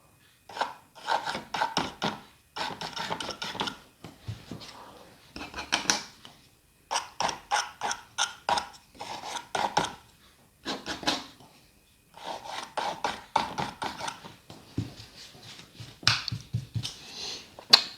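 Palette knife loaded with oil paint dragged up and down across canvas for a seascape, giving rapid rhythmic scraping strokes in bursts, close and fairly soft, with short pauses between passes.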